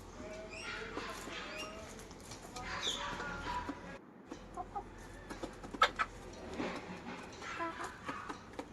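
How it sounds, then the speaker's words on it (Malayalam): Backyard chickens in a netted coop, clucking faintly and intermittently at a distance against low background noise, with a few sharper clicks and some scattered sounds. "കുറച്ച് കോഴികൾ ഇവിടെ ഉണ്ട്"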